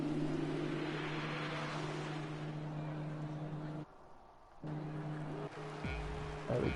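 Formula 2 cars in the F1 2020 video game at the start of a sprint race on a wet Japanese track, a steady droning engine tone that cuts out briefly, then returns with a slight rise near the end.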